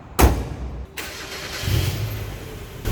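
A 1996 Mazda Miata with a manual gearbox cranks and fires up, followed by a steady mid-pitched engine running with a slight rise in revs, heard close and fairly loud with no talking.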